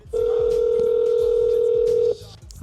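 A phone dialer placing an outgoing call gives a steady, loud dial tone for about two seconds before it cuts off abruptly, leaving faint background noise.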